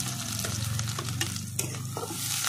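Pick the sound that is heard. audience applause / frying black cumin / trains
frying black cumin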